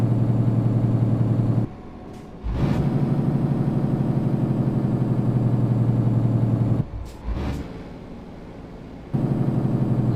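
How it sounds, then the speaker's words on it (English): Truck engine in Euro Truck Simulator 2 with the engine brake engaged, a loud steady low droning rumble that cuts out twice, with brief clicks and changes before the drone returns. "Get that engine brake working."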